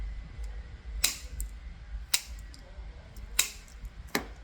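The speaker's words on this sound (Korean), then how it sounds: "가위로 잘라주고" Scissors snip a craft piece in four crisp, separate cuts spaced about a second apart, close and clear over a quiet background.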